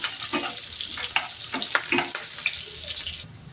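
Onions and curry leaves frying in a pan with popped cumin and mustard seeds, a dense close sizzle with scattered crackles and a stirring scrape, easing off toward the end.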